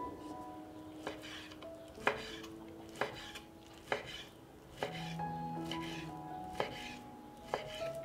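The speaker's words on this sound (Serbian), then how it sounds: "100 grama slanine isteći ću na trakice." A knife slices through 100 grams of bacon into strips on a board, with about ten crisp thuds spaced roughly a second apart, close and fairly quiet, with faint ringing tones between cuts.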